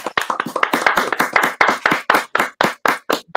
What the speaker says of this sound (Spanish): La gente aplaudiendo, muy bien.